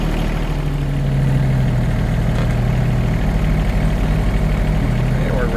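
A small tractor's engine runs steadily close by while lifting a concrete block onto a little trailer on a farm, a continuous low throbbing drone with a slight mid-clip rise, no voices heard.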